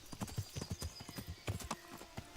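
Rhythmic clip-clop of horse hooves in the medieval game Kingdom Come: Deliverance, a steady run of close, distinct hoof strikes throughout.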